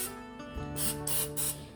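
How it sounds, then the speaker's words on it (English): Three short bursts of cooking spray hiss onto muffin tins, close and fairly loud, over a steady background hum. "you go to your muffin tins, give them each a spray"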